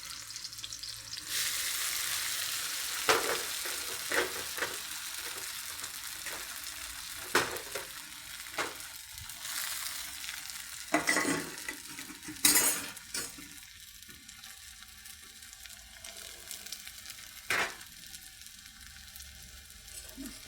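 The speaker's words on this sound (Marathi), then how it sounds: "मस्त आपली तेलामध्ये साबुदाणे फ्राय करून घ्यायची." Sago pearls fry in oil with green chilies for sabudana khichdi. A bright, continuous sizzle sits close by, with intermittent spatula scrapes and metallic clinks against the pan.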